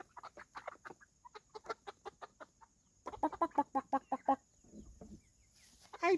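Backyard chickens in Michigan cluck in quick, close bursts, a run of short rhythmic clucks followed by a denser, louder flurry and a few softer murmurs, with no talking.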